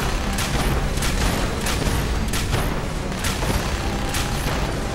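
Gunfire in Fallout 4: a rapid run of sharp repeated shots at a steady rhythm, loud and close, continuing throughout with no talk.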